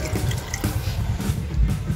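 Water poured into a cooking pot holding milkfish with tomato, vinegar, salt and brown sugar for paksiw, a brief steady splashing fill heard up close with no talk.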